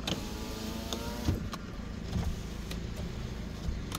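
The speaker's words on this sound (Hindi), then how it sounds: "और ये फुल ऑटोमेटिक विंडोज़," Power windows of a 2013 Toyota Vitz Ciel 1300cc running, a steady electric motor whine with a few soft clicks and thumps as the glass moves, close and fairly quiet.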